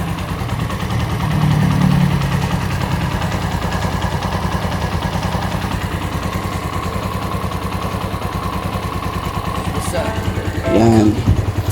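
A four-year-old Keeway CR152 motorcycle with an unopened engine idles on its stock muffler, a steady close mid-pitched putter running throughout. Brief speech rises over it near the start and again toward the end.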